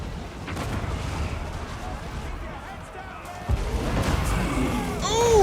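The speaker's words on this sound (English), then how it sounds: "Cannon to the literally the back of the head." Booming cannon shots thud amid Warhammer multiplayer battle game sounds and chatter, with a heavier blast partway through followed by bright ringing effects.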